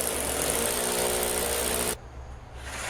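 A power drill bores into a concrete wall while a hanging sliding-door track is being mounted, a loud, steady grinding whine close by for about two seconds before cutting off abruptly, leaving quieter room noise.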